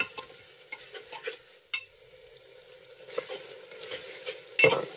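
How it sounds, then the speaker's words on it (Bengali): Chopped tomato sautéing with spices in a pan over a medium flame, a soft steady sizzle under repeated scraping and stirring strokes, with one sharper clatter near the end. "এবার আমি মিডিয়াম ফ্লেমে এই টমেটোটাকেও এই মশলার সঙ্গে 1 থেকে 2 মিনিটের মতো কষিয়ে নেব"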